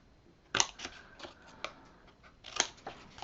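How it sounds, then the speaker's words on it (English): Scissors snip the corners off a handmade Little Lumberjack baby folio, a few short, crisp cuts spaced apart, close and fairly quiet with light paper rustling between them. "now we're going to go ahead and cut those corners out"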